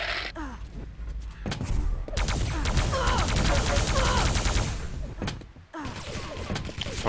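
In an arena shooter video game, heavy machine gun fire rattles in dense, rapid bursts, loud and close, with brief pauses and a few sharp impacts between streams of shots.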